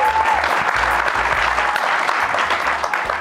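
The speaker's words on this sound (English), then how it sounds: "And a hand for Hazel Haymuli, tonight's lay girl" A crowd at a football team gathering applauds, a loud dense wash of clapping that holds steady for a few seconds with no voices above it.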